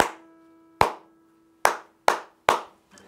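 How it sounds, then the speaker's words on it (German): Children clapping along to a song at a drumming lesson: five sharp, separate claps in an uneven rhythm, with a quiet sustained tone ringing underneath and a faint softer hit at the end. "Und zwar, wir klatschen."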